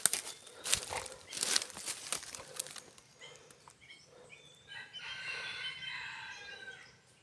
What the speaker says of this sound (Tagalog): Biglang naputol yung tilaok ng pangati ko